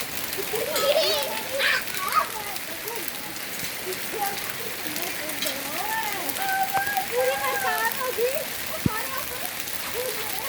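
Hailstones pelting down during a storm over standing crops, a steady dense patter on the ground throughout, with excited voices talking over it.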